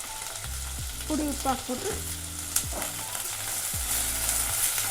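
Onions frying in a hot pan with a pinch of powdered salt, giving a steady close sizzle with stirring scrapes and a few pan knocks, while someone talks over it.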